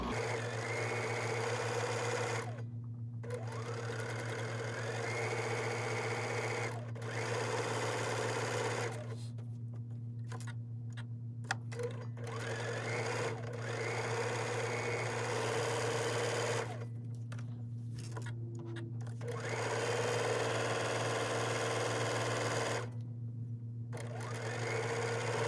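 A sewing machine chain-pieces quilt blocks in steady, close runs of rapid stitching, broken by several brief pauses, with a constant low mechanical hum beneath.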